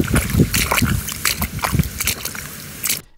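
Water splashing and sloshing in repeated bursts, played back at adjusted speed in Audacity, close and lively, with gurgles between splashes before cutting off abruptly.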